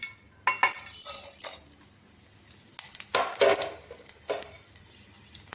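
Mustard seeds, chana dal, urad dal and cumin sizzling in oil in a pot, with sharp clatters of a utensil against the pan and light crackling between the louder scrapes.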